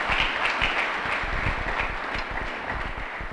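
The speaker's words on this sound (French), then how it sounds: "Nous applaudissons pour Jésus-Christ." Church congregation applauding together at a Sunday service, a steady wash of many hands clapping at moderate volume throughout, with low thumps underneath.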